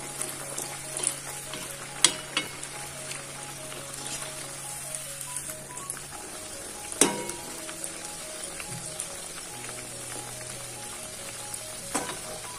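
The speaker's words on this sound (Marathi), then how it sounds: "तर तेल इथे तापलेलं आहे आणि त्यात 4-5 पण एकदम तळले जातात." Chirote pastries, four or five at a time, deep-fry in hot oil with a continuous soft crackling sizzle, dotted with sharper pops and a few clinks, close and moderately quiet with no talking.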